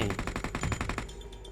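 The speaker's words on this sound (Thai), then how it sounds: "ส่วนตรงนี้มีคนยิงกันครับเมื่อกี้" Rapid automatic gunfire from the PUBG Mobile video game rattles in a fast burst for about a second, then sparse faint shots follow, fairly quiet overall.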